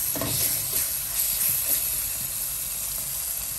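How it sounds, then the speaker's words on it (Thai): Stir-frying in olive oil with melted sugar for a salad dressing, a dense, steady hiss of frying that holds evenly throughout, close and unbroken, with no speech. "แล้วก็ใส่น้ำมันมะกอกค่ะหมดเลย โอเคค่ะแล้วก็ผัดไปเรื่อย"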